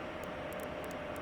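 An Airbus A220-300 engine spooling up in a flight simulator game, a steady droning roar with a constant tonal hum and faint periodic high ticks, continuous and even throughout.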